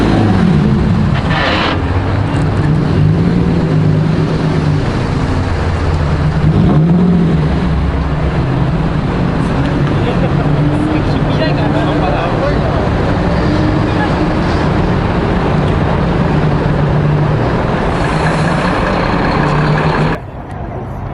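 A Toyota Mark II engine idles and revs at the Daikoku Futo parking area, a loud, continuous low rumble that swells in places, with voices and other traffic noise throughout.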